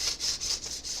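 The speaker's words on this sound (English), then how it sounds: "I'm letting the sandpaper do the work. And I'm just going to go and smooth it." 600-grit sandpaper rubbed by hand over a car body panel, five even back-and-forth strokes with a soft, hissing scrape, close and steady with no talking.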